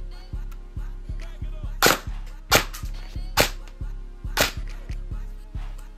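An airsoft gun fires a few sharp, loud snaps spaced about a second apart, standing out over a steady, rhythmic low thumping in the background.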